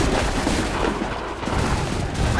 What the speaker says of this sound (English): Take cover! They're firing!